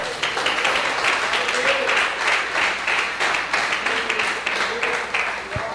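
A church congregation claps together in steady, rhythmic applause during a service, loud and close, with voices mixed in.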